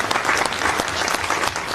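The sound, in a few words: applause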